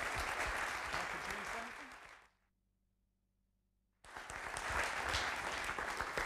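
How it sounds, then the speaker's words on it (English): An audience claps at an audio industry workshop on next-generation and object-based audio, a loud round of applause that cuts out abruptly for about two seconds and then resumes just as densely. "Just the usual round of applause, I would say, for our moderator, Simon Tuff"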